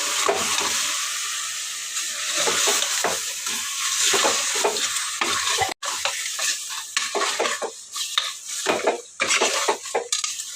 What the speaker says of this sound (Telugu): పసుపు ఉప్పు అన్నీ వేసేసిన. బాగా ఒకసారి అయితే కలిపేస్తా.